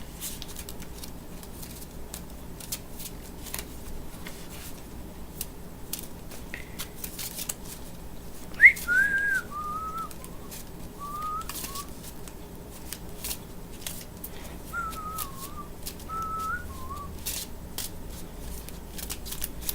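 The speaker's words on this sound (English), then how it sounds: "I'm going to shuffle this deck" A deck of Love Letter game cards is shuffled in quick, crisp riffles and flutters, close and fairly quiet, with short pauses between bursts and no talking.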